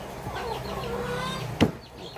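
Backyard chickens waiting to be fed cluck in a busy, overlapping chorus, close and steady, with one sharper squawk near the end and no talk.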